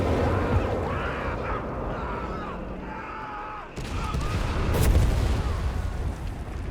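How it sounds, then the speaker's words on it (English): An artillery bombardment barrage in Company of Heroes 3 rumbles through a battle scene, with heavy booms swelling after a brief lull and distant impacts layered under game sound. "Oh dear, right into another insane bombardment barrage."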